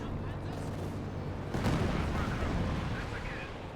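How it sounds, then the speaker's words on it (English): Katyusha rocket barrage in Company of Heroes 2 erupts midway as a dense rumbling roar of launches and impacts, swelling over a steady background of game battle noise and continuing to the end. "Katyusha barrage off in the center."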